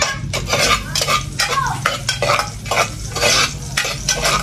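Onion and garlic stirred in hot oil in a pan at home, with a steady close sizzle and repeated scraping strokes of a utensil against the pan.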